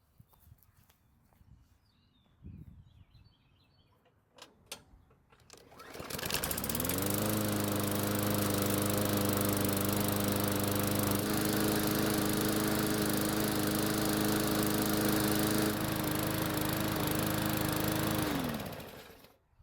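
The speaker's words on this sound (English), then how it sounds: "we should be able to start this engine, let it get hot, and then start it again without having to prime it" A lawn mower's small engine, just after a carburetor cleaning, catches after a few faint knocks and footsteps, then runs loud and steady at a constant idle for about twelve seconds before cutting off.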